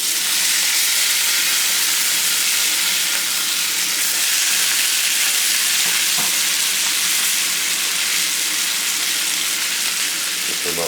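Steaks sizzling loudly in a newly seasoned cast iron skillet, a dense, continuous hiss and crackle of frying held close with no talking.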